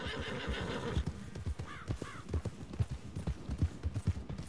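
A horse in the Red Dead Online video game whinnies twice, with a steady clip-clop of hooves running under and after the neighs, moderately loud and with no talk.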